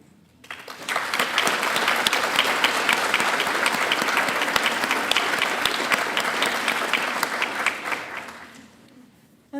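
Applause for standing community college graduates at a PTA class recognition ceremony swells quickly, holds as a full, sustained round of crowd clapping, then tapers off at the end.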